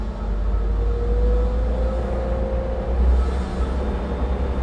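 A hydraulic boom mower head on a Raptor boom arm spins up steadily toward full RPM, a loud continuous low rumble with a rising whine through the whole stretch, no talking.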